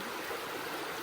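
A stream swollen by flooding near a raised cabin in the woods rushes past as a steady, broad hiss of flowing water, continuous and fairly faint, with no voices.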